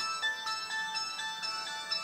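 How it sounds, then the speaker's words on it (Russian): A phone ringtone plays alone, a bright repeating electronic melody with quick evenly spaced notes, fairly loud and close, over a quiet room. "Вот, это звонит."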